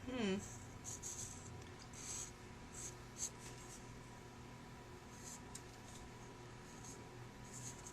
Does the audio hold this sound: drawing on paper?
yes